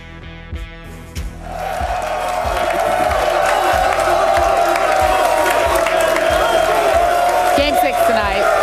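An NBA Finals arena crowd before Game 6 builds into loud, sustained cheering and whooping, with rhythmic thumps underneath and a voice speaking over the roar at the start.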